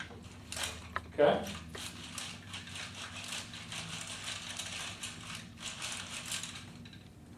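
A 3D ladder conveyor runs with a steady mechanical clatter of ratcheting and gear-like clicks, a low hum beneath it, while people talk nearby throughout.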